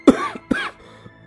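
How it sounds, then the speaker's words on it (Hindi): Two or three short, throaty coughs in quick succession, close and fairly loud, with brief pauses between them. "वो खांसने लगता है"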